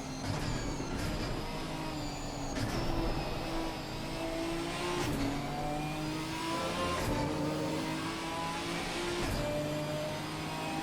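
Racing cars at full throttle in a multiclass sim racing championship endurance race at Paul Ricard: a loud, continuous engine roar with repeated rising revs and sharp gear-shift breaks, several cars blending together.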